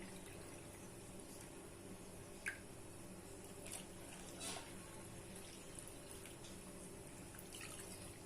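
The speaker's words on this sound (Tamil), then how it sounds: "ரெண்டு கப் தண்ணி சேர்த்தாச்சு." Two cups of water are poured into cornflour for a Karachi halwa, making a faint, steady trickle with a few soft splashes and drips.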